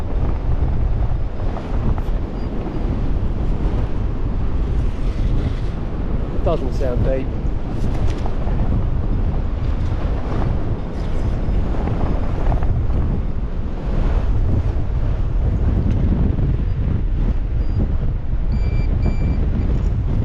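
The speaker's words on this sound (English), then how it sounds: "Yeah, that's how windy it is." Strong wind buffets the microphone on an open beach, a loud, steady roar that runs unbroken throughout, with surf mixed in and people talking briefly over it.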